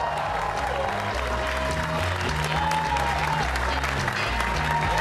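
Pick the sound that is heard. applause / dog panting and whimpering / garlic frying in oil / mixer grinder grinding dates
applause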